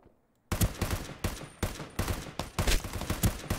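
Rapid gunfire in the shooter Ring of Elysium, a near silent start, then loud clustered bursts of shots in an uneven rhythm.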